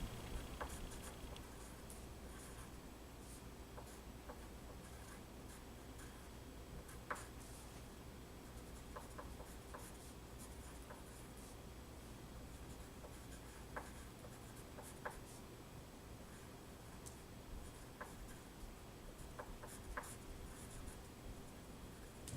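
Pencil or pen writing on paper during a one-on-one tutoring session, a steady soft scratching with light scattered taps, close and quiet with no talk over it.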